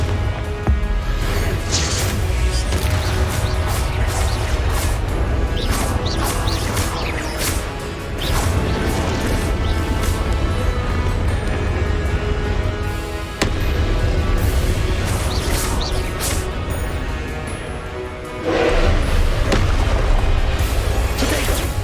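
Confringo blasting-curse explosions in the Hogwarts Legacy video game: a loud, continuous barrage of booms, crashes and whooshes from spell combat, with only brief lulls.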